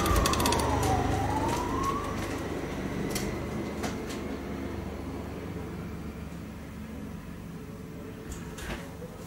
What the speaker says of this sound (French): J'ai jamais entendu cette sirène. C'est passé juste au-dessus de mon toit.